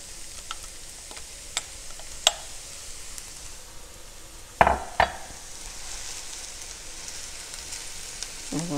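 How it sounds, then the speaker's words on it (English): Shrimp dropped into a hot skillet give a soft, steady sizzle with a couple of brief clinks and a louder splash of contact midway, fairly quiet and unaccompanied by speech. "now I'm going to go ahead and put in our shrimp."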